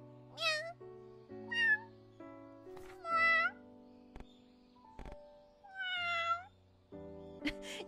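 A person imitates a cat's meow several times, each call short and rising, spaced apart over a soft, steady background hum, fairly close and clear.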